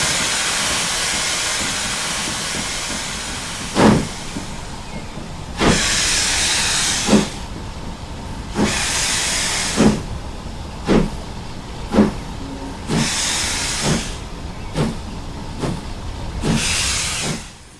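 Steam blasts from the open cylinder drains of the LNWR 3020 'Cornwall' steam locomotive in Train Simulator, loud hissing bursts repeating in an uneven rhythm with short thumps between them and no talking.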